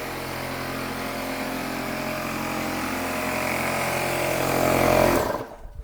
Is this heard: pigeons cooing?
no